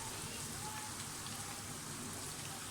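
Strips of dough cut into chips sizzle steadily in hot oil in a home kitchen, a dense, even crackling hiss with no pauses, heard alone and close.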